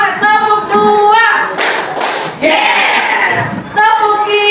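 Students in a classroom clap a rhythmic chant as an ice-breaking exercise, two bursts of clapping set between spoken and chanted voices at the start, middle and end.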